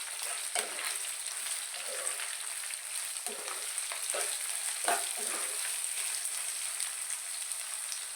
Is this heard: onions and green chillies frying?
yes